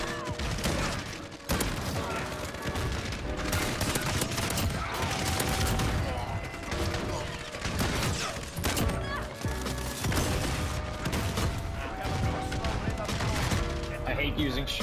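Shotgun fire and other weapons in the video game Call of Duty Modern Warfare 2019, a continuous loud barrage of blasts and impacts with clashing game sounds and music throughout.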